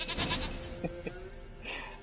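A goat in The Witcher 3 video game bleats in a couple of short, nasal calls over a soft background ambience, fairly close but not loud.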